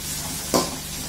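Onions and green chillies sautéing in a pan for a Tamil goat blood fry, a steady soft sizzle with a brief stirring scrape partway through, close and moderately quiet.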